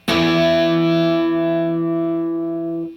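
A single distorted electric guitar chord struck once with the other strings muted, ringing clean and sustained before cutting off near the end.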